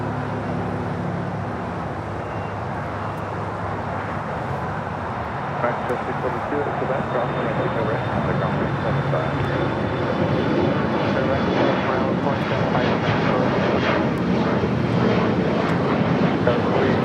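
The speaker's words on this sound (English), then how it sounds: "Next arrival here on the south side is Hawaiian Airlines Flight 10, coming in from Honolulu at A330" A Hawaiian Airlines Airbus A330, Flight 10 from Honolulu, lands on the south side at LAX with a sustained jet rumble and whine that builds gradually, a speaking voice running over it.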